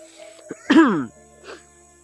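A single harsh cough, loud and close, with a couple of small throat sounds before it and a softer one after, over quiet background hum.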